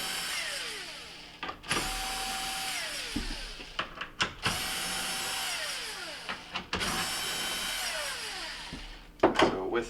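A cordless power tool spins out quarter-inch mounting bolts on a GE built-in cooktop, repeated whirring bursts that rise and wind down in pitch, separated by clicks and clattering handling noises close up.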